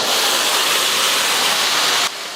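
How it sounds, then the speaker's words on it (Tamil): Boiled mutton with its cooking water is poured into onions frying in a pan, making a loud, continuous sizzling hiss that drops slightly at the end. "இப்போ நம்ம வேக வச்ச மட்டன் சேர்த்துடலாம் அந்த தண்ணியோடையே சேர்த்துக்கலாம்"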